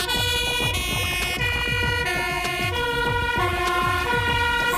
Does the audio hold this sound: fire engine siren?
yes